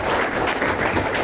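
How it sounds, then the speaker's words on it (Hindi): Dense, continuous applause from a meeting crowd welcoming the MD, loud and even throughout, with no pause. "तालियों से स्वागत करेंगे हमारे एमडी सर।"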